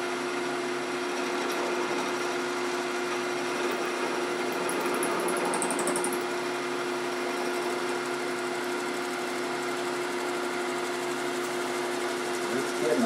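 Lathe turning a PVC threaded urn insert at low speed, a steady mechanical hum with a faint motor whine running continuously throughout, with no talking.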